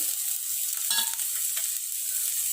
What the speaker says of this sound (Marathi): थोडासा सॉफ्ट होईपर्यंत कांदा रोस्ट करून घ्यायचा।